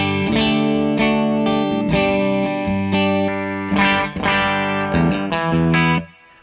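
An electric guitar plays a sequence of ringing chords and notes with a clean tone and some reverb, fading out at the end.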